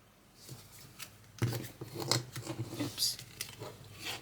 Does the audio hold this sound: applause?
no